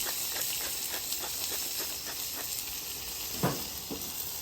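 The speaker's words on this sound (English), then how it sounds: "that grease, that bacon fat pulls to the back, so pull it to the front" Onions sizzle in bacon fat on a flat-top griddle for a BBQ chicken sandwich with bacon onion whiskey jam. A fairly quiet, steady hiss plays close by, with a brief scrape of a spatula partway through.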